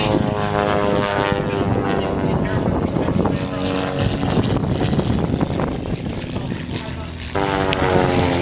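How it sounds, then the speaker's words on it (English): Edge 360 aerobatic propeller aircraft at an RAF Leuchars airshow, its engine roaring loud and steady throughout with a strong droning tone, shifting slightly in pitch as it passes. "But today they are joined by the Edge 360,"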